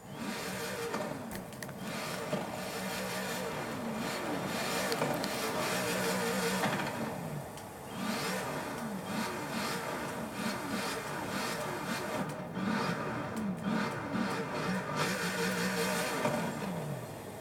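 A Koenigsegg sports car engine in the video game Forza Horizon 4 revs, rising and falling steadily for the whole stretch, a mid-pitched mechanical drone with repeated throttle swells.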